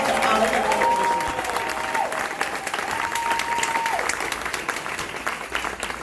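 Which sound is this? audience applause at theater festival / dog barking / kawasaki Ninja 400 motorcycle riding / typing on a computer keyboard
audience applause at theater festival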